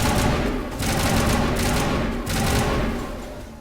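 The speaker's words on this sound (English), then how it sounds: "Oh, he's using his pistol." Rapid bursts of pistol gunfire from the video game Mass Effect Legendary Edition form a dense, loud, continuous fusillade with brief dips between volleys.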